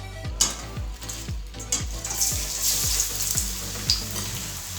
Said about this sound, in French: sur le feu, dans l'huile, pour que ça recuise bien.